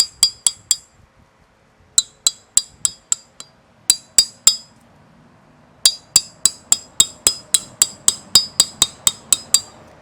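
A wood chisel struck with a mallet while carving, sharp bright clinking knocks in quick rhythmic bursts of three to five, then a pause, then a long even run of close, loud strikes.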